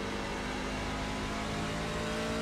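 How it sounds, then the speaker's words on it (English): Race truck engine in a racing video game at Gateway, holding a steady low-RPM drone off a turn in fourth gear, loud and continuous with no talk. "you hear how much lower the RPM sound there off turn 4"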